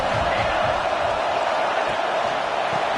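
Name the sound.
Alabama Crimson Tide stadium crowd noise on third down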